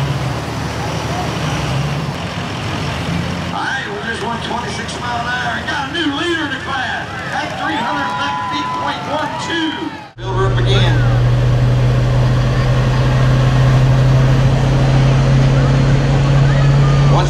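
At a truck and tractor pull at Front Royal, a pulling truck drags a sled, its engine roaring loudly with a strong steady drone after a sharp surge, while crowd chatter and announcing are heard underneath.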